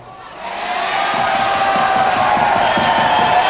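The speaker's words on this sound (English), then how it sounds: "Once again, it seems unanimous in its applause" A boxing crowd at a Paul Briggs versus Jeff Tapu bout roars with sustained cheering and applause, a dense, loud, steady wash of voices and clapping that swells in the first second and holds.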